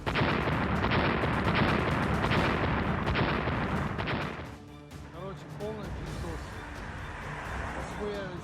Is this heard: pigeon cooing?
no